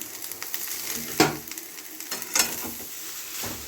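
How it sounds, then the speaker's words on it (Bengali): Boiled potatoes frying with spices in a pan for masala dosa filling, a soft continuous sizzle broken by a few sharp scraping stirs. "আলু সেদ্ধটাকে ভালো করে মশলার সাথে কষে নেব"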